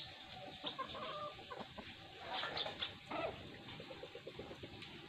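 Wild junglefowl cluck softly outdoors, with scattered short calls over faint rustling background noise at a distance.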